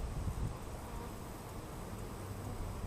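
Honeybees buzzing in an open hive during an inspection, a dense continuous hum of many insects close by, steady throughout with no voices.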